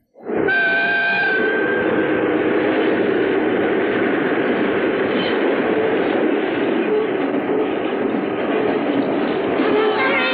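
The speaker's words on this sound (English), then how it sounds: "It's just a train." A train passes along a railroad, heard as a loud, continuous rumbling roar of rolling wagons and engine that holds steady for the full stretch, with tonal squeals and a horn-like whine near the start; talk is mixed in with the noise.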